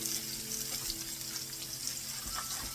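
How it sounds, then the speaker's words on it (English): Pot of pasta water at a rolling boil, a steady close bubbling and hissing wash that holds even and unbroken throughout, with no voices. "Got a rolling boil."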